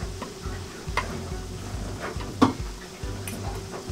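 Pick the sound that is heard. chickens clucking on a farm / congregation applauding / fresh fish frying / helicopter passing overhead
fresh fish frying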